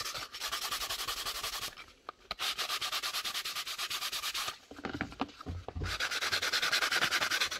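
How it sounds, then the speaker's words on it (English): A Dremel rotary tool buffs a carbon fiber paddle holster, giving a steady, loud high-pitched whirring rub that briefly dips and stutters twice as the tool is repositioned against the workpiece. "And then this is on the Dremel. So we're going to do a little bit of a buff"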